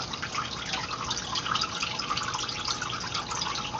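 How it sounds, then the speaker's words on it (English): A small ceramic dragon fountain with water bubbling out of a mushroom top splashes and trickles in a steady, close, continuous babble with no pauses. "The water bubbles out of the mushroom top there."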